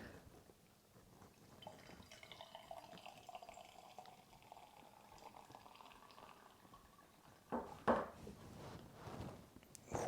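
Home-brewed Stars and Stripes beer pours from a Pinter home brewing dispenser into a glass with a quiet, fizzy hiss and gurgle, building into louder foamy sputters and splashes near the end.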